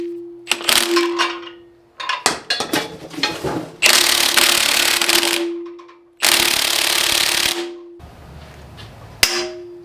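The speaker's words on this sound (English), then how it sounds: "Just gonna try the impact before" An impact wrench hammers at the crank pulley bolt of a Toyota 2JZ engine during a teardown. It comes in several loud, rattling bursts, some short and some lasting about two seconds, with metallic clanks between them and no talking.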